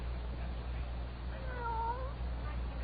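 A cat gives a single short meow, faint against a steady low background hum, with no talking.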